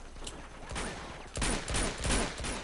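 Rapid bursts of video game gunfire from Uncharted 2, a sustained fusillade of overlapping shots that grows louder and denser partway through, with no talk over it.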